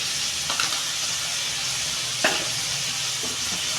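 Hot oil tempering poured over a catla fish curry gives a steady bright sizzle throughout, with a sharper crackling burst near the middle as it hits the pan.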